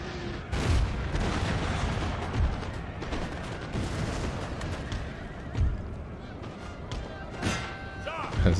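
Napoleon: Total War battle with cannon fire booming repeatedly amid continuous gunfire and battlefield din, several heavy thuds standing out over a dense, loud background.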